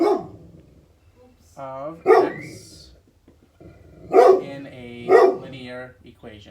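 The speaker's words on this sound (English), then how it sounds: "That's just my dog barking like he always does." A dog barks a few times in short bursts, spaced apart, while a person keeps talking.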